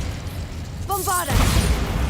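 A voice shouts a short spell cast, then a Bombarda blasting-spell explosion in Hogwarts Legacy, a deep, booming burst with rumbling debris that carries through the second half.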